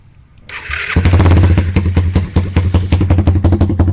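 A dual-carburetor motorcycle cold-starts with a quick crank and catches at once, its exhaust cap removed, then settles into a loud, close, steady idle with a rhythmic lumpy pulse and some mechanical clatter.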